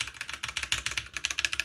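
Rapid, clattery keystrokes on a noisy computer keyboard, a fast steady run of loud, close clicks with no talking.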